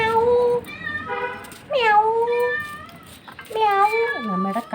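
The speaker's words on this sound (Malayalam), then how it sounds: "ആ മ്യാവൂ എന്തുവാ?" A household cat meows repeatedly in a home kitchen, giving about four drawn-out, rising and falling calls close by, with short quiet gaps between them.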